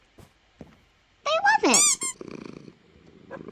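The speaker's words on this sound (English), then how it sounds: "I have Minecraft cats." Minecraft cats in a video game give a burst of bright, squeaky meows followed by a soft, low purring rumble, with a short spoken remark before it.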